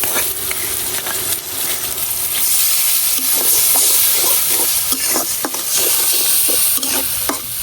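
Masala paste fries with onions in a pan for a Bengali carp curry with tomato and cauliflower, a loud, steady hissing sizzle with rhythmic scraping stirs, near and without talk.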